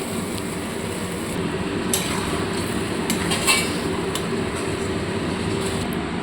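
Goat meat being stirred and sautéed in a pan with onions: a steady sizzle carries throughout, broken by occasional scraping clinks of a metal spoon against the pan, close and fairly loud.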